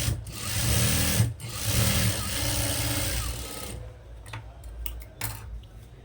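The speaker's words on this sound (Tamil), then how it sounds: "இப்போ இதுக்கு மேலே ஒரு டாப் ஸ்டிச் கொடுக்குறோம்." A sewing machine runs a top stitch on a chudi pant pocket, whirring in a fast, steady rhythm up close for several seconds before stopping, followed by a few light clicks.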